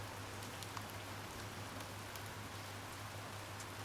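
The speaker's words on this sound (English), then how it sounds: "The rain is quite loud." Steady, soft rain from the video game Empyrion Reforged Eden, a constant hiss with faint drop patter and a low hum underneath, no voices.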